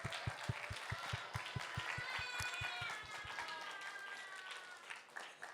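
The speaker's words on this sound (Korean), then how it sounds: "박수 한번 칩시다." A children's camp audience claps together in a quick, steady rhythm that fades after a few seconds, with scattered children's voices and chatter mixed in.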